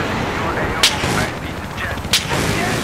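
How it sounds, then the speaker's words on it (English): Two sharp sniper rifle shots in Battlefield 3, spaced about a second apart over constant loud battlefield background noise. "I'm sniping the kid out of the heli"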